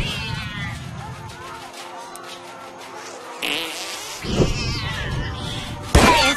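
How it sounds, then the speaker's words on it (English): Meowing from a cat in the South Park: The Stick of Truth video game mixes with buzzing, insect-like game noise, a few loud bursts standing out near the end. "Bad kitty! That's a bad kitty!"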